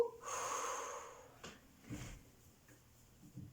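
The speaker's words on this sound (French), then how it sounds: "on va respirer un petit coup" A single deep, audible breath drawn in and released after a ballet pointe warm-up, close and clear, followed by quieter rustles and soft movement.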